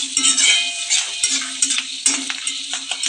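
Curry leaves crackle and spit in a hot pan while cooking poha, bright sputtering sizzle with sharp irregular pops and a few utensil taps, close and loud with no talking.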